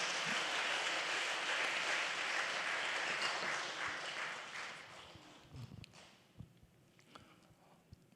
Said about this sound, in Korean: 승리하신 주님께 우리 영광의 박수 올려드리겠습니다